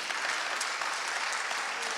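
Audience applause for ministry of youth and culture staff, a steady, dense wash of clapping throughout the short stretch.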